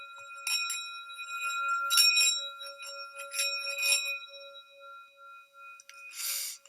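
A singing bowl is rubbed around its rim with a wooden stick, building a sustained ringing tone with bright overtones that swells and wavers as the stick circles, fairly soft and close, in a quiet radio studio.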